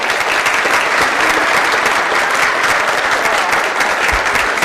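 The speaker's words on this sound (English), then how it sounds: "Give a round of applause," Banquet audience at a university hall of fame dinner gives a round of applause, a dense, loud and sustained wall of clapping from a full room that continues unbroken with no talking.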